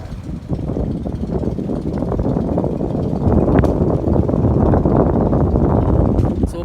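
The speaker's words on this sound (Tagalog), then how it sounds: "ang ganda ng simoy ng hangin dito oh" Steady gusty wind rumbling across the microphone outdoors at a boat port in Cordova, a low continuous roar that swells slightly louder midway, with no voices.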